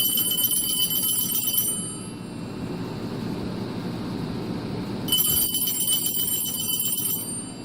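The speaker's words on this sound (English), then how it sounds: "this is the VTech, or should I say the Radio Shack 43175 mechanical bell ringer." A Radio Shack 43175 mechanical telephone bell ringer ringing in two loud bursts of rapid metallic clanging, separated by a few seconds of quieter hum, heard alone without talk.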